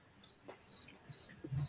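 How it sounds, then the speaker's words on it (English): Crickets chirp in a basement as faint, distant, repeated high chirps in a quiet room, with a few soft low thumps near the end. "and if you hear crickets, yeah, that's from my basement"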